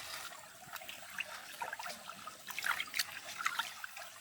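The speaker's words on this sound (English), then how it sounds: "The cloudy water is poured away, and the pot is filled once more with clean mountain water." Cloudy rice-rinsing water poured from a pot outdoors in a rainforest, a soft uneven trickle and splash that grows a little louder toward the end, with no voices.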